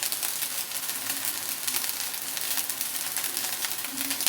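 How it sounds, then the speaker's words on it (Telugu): Mint rice tossed in a pan over a high flame, giving a steady close sizzle and fry with faint stirring scrapes running evenly throughout, no voices. "హై ఫ్లేమ్లోనే పెట్టి టాస్ చేసుకోవాలి ఇది బాగా"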